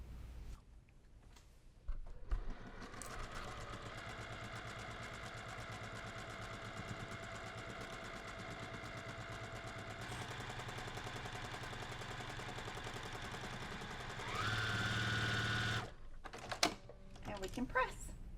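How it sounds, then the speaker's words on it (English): A sewing machine hums and stitches quilt block seams in a long steady run, pausing briefly before a short faster burst and a few clicks. "we're going to go stitch it at the sewing machine."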